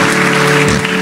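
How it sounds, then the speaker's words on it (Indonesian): A church congregation applauds enthusiastically, a dense, steady wash of clapping with a sustained musical tone underneath, heard briefly and loudly. "Sekali lagi kita berikan tepuk tangan yang meriah buat Tuhan Yesus."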